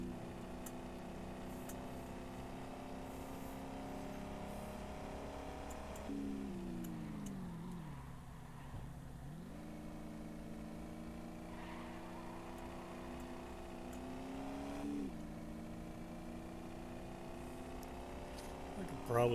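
A truck engine hums steadily while driving in Dealer Simulator, its pitch sliding down and back up as it slows and speeds, with a person talking over it throughout.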